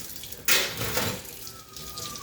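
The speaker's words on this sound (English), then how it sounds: "So I'm just kind of rinsing them first." Water from a tap rushes in a sudden burst as dental instruments are rinsed under it, a close, splashing stream that then continues more softly.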